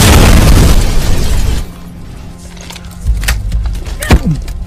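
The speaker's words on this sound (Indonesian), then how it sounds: "langsung saja meledak." A loud, booming explosion in a dramatic film scene, set off when fire is lit, roars at full strength for about a second and a half before dropping to a quieter rumble with scattered smaller bursts and pops.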